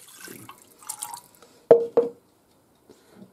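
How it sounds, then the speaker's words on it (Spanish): Water goes into a pan for a coffee cake syrup in two quick, close splashes, with soft kitchen handling noises before them. "el agua,"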